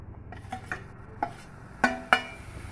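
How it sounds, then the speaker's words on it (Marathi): A spoon scrapes and clinks against a pan while a roasted wheat flour, sugar, poppy seed and coconut mixture is stirred over low heat, with a few sharp metallic taps over soft rustling, close. "आणि पटपट हलवून घ्यायचं आहे आपण"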